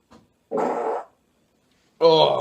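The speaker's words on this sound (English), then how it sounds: "I think I'm the only one that farts on video." A man farts, giving two separate bursts about a second apart. Each is loud, close and buzzy, and the second is sharper and more tonal.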